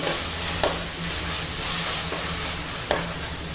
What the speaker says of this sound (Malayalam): ഒരു 2 മിനിറ്റിന് ശേഷം മൂടി മാറ്റി നന്നായിട്ടൊന്ന് മിക്സ് ചെയ്ത് കൊടുക്കാം